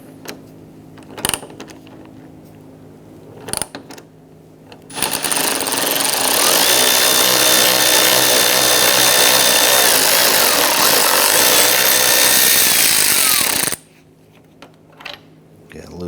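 A power tool loosens a 13mm bolt on the upper front bumper bracket of a 2011-2019 Ford Explorer, giving a loud steady whirring run of about eight seconds between a few clanks and handling knocks.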